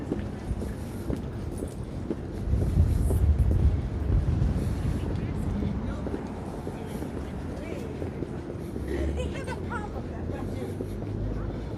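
Cold night wind buffets the microphone on a Manhattan street, low rumbling gusts that swell and fade with faint city noise behind while a person talks.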